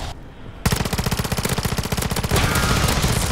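SMG fire in MW3 Zombies, Zone 3: a long, fast, steady stream of close, loud automatic shots after a brief quiet start, continuing without pause to the end.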